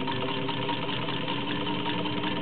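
A vintage Singer 15-125 sewing machine runs steadily while stitching a couple of layers of domestic leather, giving a continuous, fairly loud mechanical whir with no pauses.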